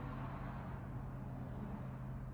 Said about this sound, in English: I'm sorry if you hear some cars driving by.